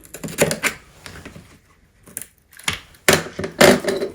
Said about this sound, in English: I'm just going to use my razor knife to gently cut around this